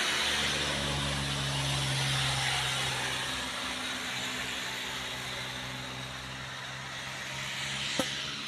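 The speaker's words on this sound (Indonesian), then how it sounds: "satu unit mobil Avanza melintasi tanjakan Bukit Kodok" A Toyota Avanza car climbs the steep Bukit Kodok hill, its engine droning steadily and loudly for several seconds while the sound slowly fades a little, with a brief click near the end.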